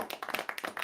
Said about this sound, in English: That's like camera shutters, not applause.